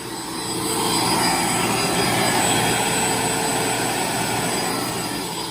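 Vortex Lite or truckmount carpet cleaner running under pressure, giving a loud, steady broadband roar with a constant high whine that holds evenly throughout, with no talking.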